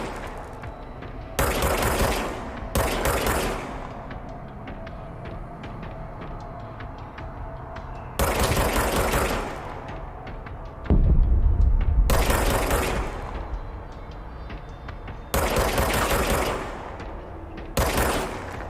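Gunfire from the video game Control: several loud bursts of rapid shots in separate volleys spaced a few seconds apart, over a steady low in-game ambience, with no talking.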